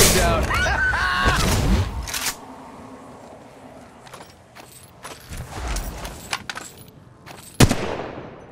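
Apex Legends Mobile video game gunfire: loud bursts of shots and impacts in the opening two seconds, then quieter scattered pops and clicks with one sharp loud crack near the end, with game voice lines over parts of it.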